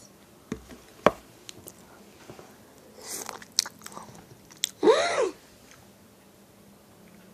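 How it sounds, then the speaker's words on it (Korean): Close-up biting and chewing of strawberries: a few sharp crisp bites, then soft wet chewing and a longer juicy crunch, all heard alone in a quiet room. "한번 여기로 먹어보도록 할게요"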